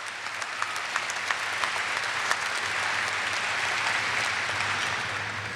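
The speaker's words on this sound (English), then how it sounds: "give yourself a hand clap" Graduates clap for themselves at a university commencement ceremony, a steady, fairly distant wash of hand claps across a large hall that swells slightly midway and holds.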